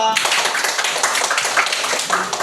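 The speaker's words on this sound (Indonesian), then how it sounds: "Tepuk tangan dulu untuk kelompok 2" A group of students is applauded in a classroom, with dense steady hand clapping from many people filling the space for a couple of seconds.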